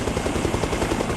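Helicopter in Arma Reforger, a steady loud rotor chop with rapid rhythmic thumping, continuous and close throughout the short stretch.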